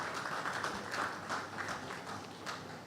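An audience at a bar association law week event applauds a guest taking his seat, a steady wash of many hands clapping, fairly faint and distant, continuing without pause.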